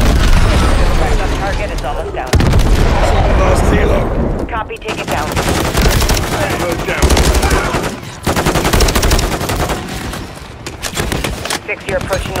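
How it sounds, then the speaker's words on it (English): A heavy mounted machine gun on an armored vehicle in Call of Duty hammers out long, loud bursts broken by brief pauses, with booms and voices mixed into the chaotic firefight. "John got a mounted MG coming your way on an armored vehicle."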